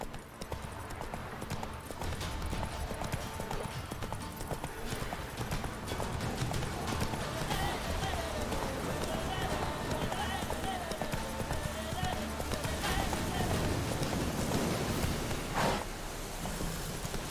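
Roach, Geralt's horse in The Witcher 3, gallops in a steady clip-clop of hooves that runs the whole way through under game ambience, with a faint whinny and a voice speaking now and then over it.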